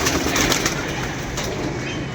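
Pigeons coo close by, soft throaty calls blending over a loud, steady hiss of background noise, with no talk.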